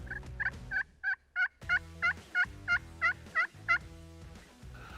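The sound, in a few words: wild turkey gobbling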